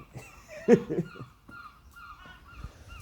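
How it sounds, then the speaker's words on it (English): Birds give a few loud honking calls, one sharp squawk followed by softer scattered cries, fairly close. "It's like loving these birds. They're noisy. Very noisy."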